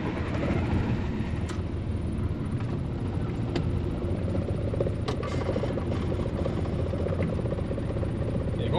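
Old 1980s Volvo F16 truck diesel engine running steadily after starting, a loud continuous low rumble and clatter filling the whole stretch with no talking.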